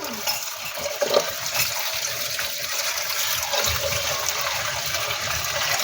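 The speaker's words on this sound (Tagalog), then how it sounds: "kailangan nating banlawan na ang ating gulay" Tap water runs steadily while kangkong leaves are rinsed in a home kitchen, a constant close rushing hiss with faint splashes and handling noises throughout and no talk.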